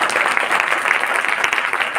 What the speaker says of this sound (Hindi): खुश होकर एक बार ताली बजनी चाहिए।